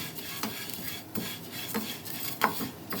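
Vermicelli roasts in ghee in a thick nonstick kadai while a spatula stirs it, giving dry, rhythmic scraping and rustling strokes over a soft, steady sizzle.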